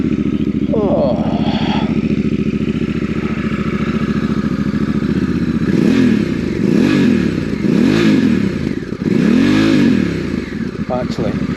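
Close, loud Honda Africa Twin motorcycle engine idling, then blipped through several quick rising and falling revs in a row before dropping back to idle.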